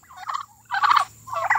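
A blue slate turkey gobbles nearby in three quick, warbling bursts separated by short pauses, clear against a quiet background.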